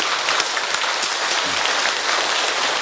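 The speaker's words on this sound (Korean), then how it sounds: "우리 이 시간 이분들을 환영하는 박수 크게 한번 쳐주시고" A church congregation applauds to welcome newly registered newcomers during a worship service in Daegu, a steady wash of clapping filling the room without a break.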